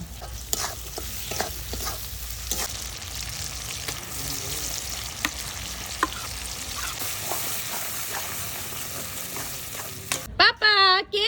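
Tomato and onion frying in oil for a spicy shutki bhorta produce a constant sizzle under repeated scraping stirs. A short burst of voice comes in right at the end.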